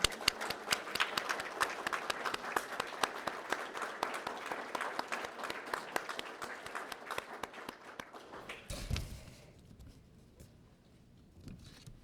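Audience applause at a law and religion center's 40th anniversary event, dense clapping that holds steady for about eight seconds, then stops abruptly, leaving quiet room tone with scattered faint claps.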